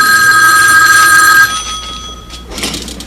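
A telephone rings loudly indoors in a sitcom home, one long steady bell tone that cuts off midway, followed by quieter room noise.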